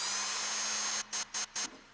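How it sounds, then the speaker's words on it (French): An electric drill whine used as a sound-design element in music production, a steady high-pitched buzz that is then chopped into short rhythmic bursts near the end, loud and alone. "je me suis dit que j'allais utiliser un bruit de perceuse"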